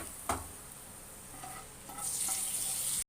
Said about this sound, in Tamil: இப்போ வந்து நான் இதில் தாளிச்சதை இந்த தக்காளி ஊறுகாயில் ஊற்றிக்கிறேன்.